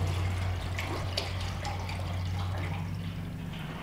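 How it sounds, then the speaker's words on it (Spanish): Water pours steadily into a container to weigh it down during a home electrolysis gold-plating setup, a continuous splashing trickle heard close up without speech. "vamos a echarle agua a esta por dentro para que agarre peso, para meterla adentro"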